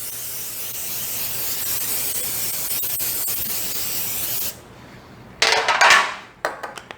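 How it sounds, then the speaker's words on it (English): Cooking spray hisses onto an old cookie sheet, one steady continuous spray lasting several seconds, followed by a pause and a few clattering handling sounds. "I've got my old cookie sheet. I'm going to spray this."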